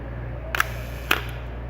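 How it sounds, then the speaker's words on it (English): A film camera shutter fires twice: a sharp click opens it, and a second click closes it about half a second later. The room is otherwise quiet apart from a low steady hum. "Watch the shutter."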